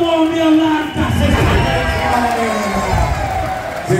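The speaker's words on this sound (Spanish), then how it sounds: "se lleva la ovación de todo el público" A wrestling arena crowd at a Titanes en el Ring lucha libre show gives a loud sustained ovation, cheering and whooping throughout with a few rising shouts standing out.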